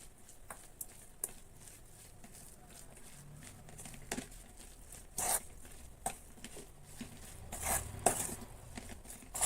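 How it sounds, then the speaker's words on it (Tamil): Minced mutton mixed by hand with roasted gram flour, chopped coriander and curry leaves for kola balls, giving soft, irregular squelches and pats with occasional clinks against a bowl, close and fairly quiet, with no talking. "இது நல்லா கலந்து விட்டுடலாம்."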